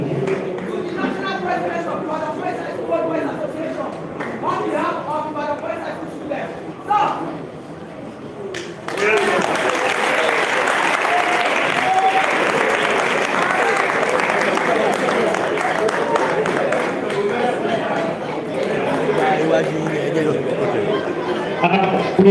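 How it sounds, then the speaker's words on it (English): Audience applause and cheering for a group of boys at a Nigerian 63rd independence anniversary celebration, a crowd noise that swells after a lull and stays steady and full under scattered chatter. "We are promising you a round of applause for these boys."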